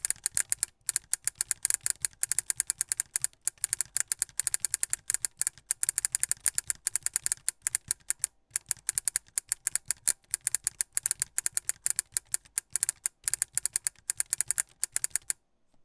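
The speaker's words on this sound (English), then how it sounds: "So we're gonna go do a typing test on it," Fast continuous typing on a mechanical keyboard fitted with a solenoid for haptic feedback, sharp dense clicks and clacks close up, with brief pauses between bursts and no talk.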